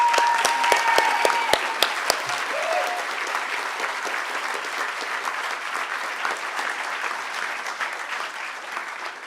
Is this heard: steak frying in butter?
no